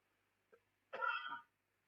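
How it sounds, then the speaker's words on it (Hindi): A single short cough from someone with a sore throat: a faint catch, then one harsh burst lasting about half a second, close and isolated in a quiet room. "गले में प्रॉब्लम हो रही है, इस वजह से थोड़ा सा खांसी सी हो गई"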